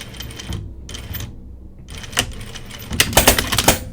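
Sewing machine stitching the placket of a tunic, short close mechanical bursts broken by brief stops, ending in a faster clattering run, with no talking.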